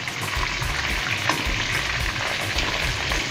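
Chicken pieces fry in shallow oil in a pan, a close, steady crackling sizzle that continues evenly throughout with no speech.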